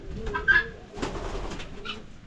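Doves coo softly while feeding on maize, a few low muffled calls rising over a steady background hum at moderate distance.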